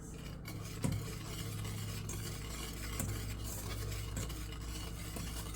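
Pudding being stirred with milk in a pan on a slippery glass-top stove, a steady low scraping swirl with a few soft clinks of the utensil against the pan.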